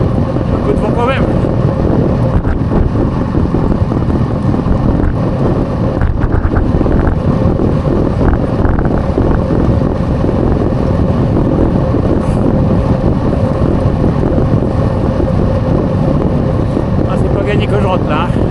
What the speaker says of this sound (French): un peu de vent quand même.